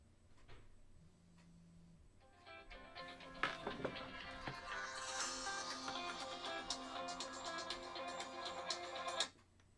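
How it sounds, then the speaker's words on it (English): A phone ringtone plays for several seconds as a bright, steady electronic melody, fairly loud and continuous, heard while a fan watches a live NFL Browns vs Rams game; no voices over it. "Phone's ringing."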